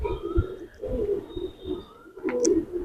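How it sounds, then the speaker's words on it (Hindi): Old-breed Tonk pigeons coo in soft, repeated low throaty pulses, close by, with several overlapping calls and a brief higher chirp near the end. "ये देखिए प्योर टॉक वाले कबूतर"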